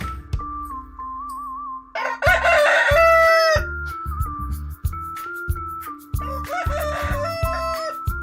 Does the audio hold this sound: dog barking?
no